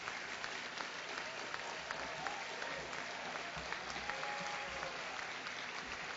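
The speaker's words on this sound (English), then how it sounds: "Please, let's give them a round of applause." An audience at a school district meeting applauds the school nurses with steady, continuous clapping that sounds muffled and somewhat distant, holding evenly throughout.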